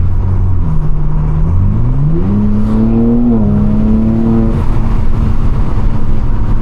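A BMW G80 M3 with factory valved axle-back exhaust revs up with a rising, throaty tone, holds a high pitch briefly, then eases back, loud and close with steady roaring underneath.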